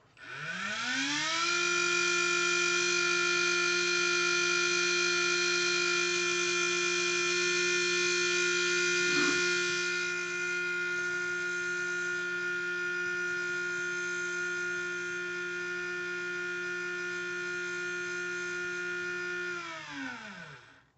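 A sensored RC motor spins up during a timing test and holds a steady high-pitched electric whine for about twenty seconds, then winds down sharply at the end. It is close and unbroken.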